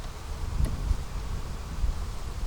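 Honeybees hum and buzz around an open beehive, a continuous close drone with wind rustle and a couple of brief louder knocks, no voices.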